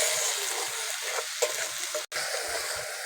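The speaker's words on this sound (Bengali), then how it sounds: "ভালো করে মশলাটাকে ভেজে নেব যতক্ষণ না কাঁচা গন্ধটা চলে যায়।" A ground spice paste of blended onion fries in a pan, making a continuous close sizzle with soft stirring scrapes and a brief dropout near the middle.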